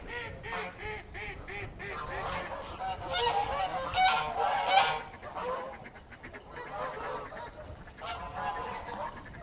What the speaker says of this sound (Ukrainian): І качки, і гуси